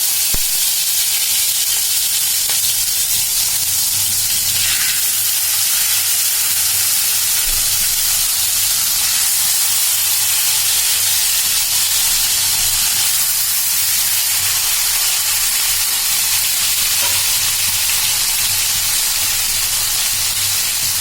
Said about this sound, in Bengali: আমি পাইপেনে এক্সট্রা ভার্জিন অয়েল দিয়ে রেখেছিলাম গরম হওয়ার জন্য তেলটা। এখন চিকেন শাস্ট্রিকটা দিয়ে দিচ্ছি।